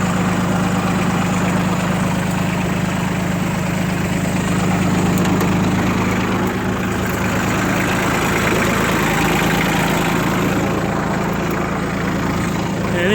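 Ford 1520 tractor idling with a new muffler: a steady, loud, low diesel rumble with constant vibration, heard close up and alone for about thirteen seconds.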